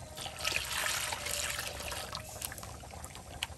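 Liquid broth poured into a pot of cooking dal in a home kitchen, a soft continuous trickling and splashing, fairly quiet and close, with no voices.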